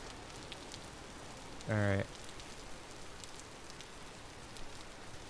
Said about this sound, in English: Because we are back in rain,